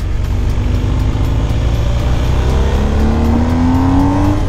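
A 2021 BMW R1250 GS motorcycle engine on a test ride, a steady close-up drone whose pitch climbs as the bike accelerates, with no talking over it.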